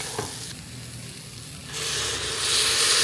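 Green peas fry in a pan, the close hiss rising to a brighter, louder sizzle as they are stirred, steady and alone without talk.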